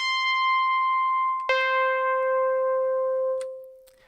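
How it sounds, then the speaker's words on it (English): An FM-synthesized piano instrument for chiptune plays two sustained notes, a bright buzzy tone held for about a second and a half, then a lower note ringing out and fading at the end. "I've got a piano instrument. Sounds like this."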